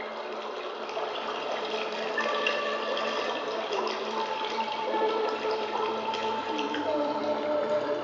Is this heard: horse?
no